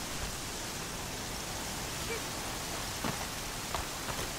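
Steady rain in the video game Horizon Zero Dawn during a sudden weather change, a constant even hiss of falling water with a few faint drip-like ticks, fairly quiet and heard alone without talk.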